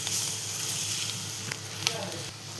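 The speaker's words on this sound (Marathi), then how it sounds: "आता मस्त एक परतवून घेऊया आपण." Drumstick pods sizzle and crackle in a hot pan for moong dal as they are stirred and sautéed, a steady close frying hiss with a few scraping knocks of the spoon.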